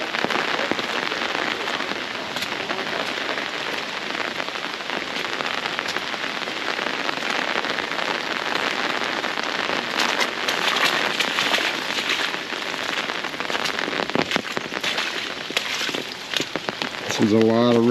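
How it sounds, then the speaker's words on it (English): Heavy storm rain pours down steadily in a dense, continuous wash, with wind gusting through during a tornado and hurricane event on a homestead; the downpour stays loud throughout, with a brief low tone near the end. "This was a lot of rain and a lot of wind,"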